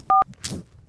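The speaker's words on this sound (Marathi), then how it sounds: "लाव ना पटकन फोन." A telephone keypad sounds two crisp dialing tones in quick succession, followed by faint handling clicks and rustle.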